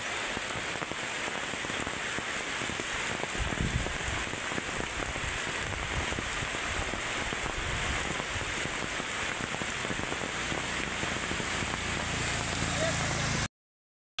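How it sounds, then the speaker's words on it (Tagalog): Heavy typhoon rain pours down steadily in Masbate during Typhoon Kristine, a dense continuous hiss drumming on surfaces close by, with faint voices now and then beneath it before it cuts off abruptly at the end. "Sobrang lakas po talaga mga kaibigan ng ulan dito ngayon."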